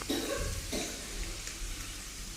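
Potatoes frying in hot oil give a steady, close sizzle and bubbling hiss that fills the whole moment without pause.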